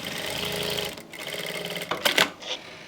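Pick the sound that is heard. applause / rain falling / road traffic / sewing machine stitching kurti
sewing machine stitching kurti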